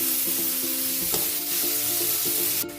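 Fried shrimp paste (alamang bagoong) being stirred in a pan, a constant close sizzle with a rhythmic scraping pulse of a utensil against the pan.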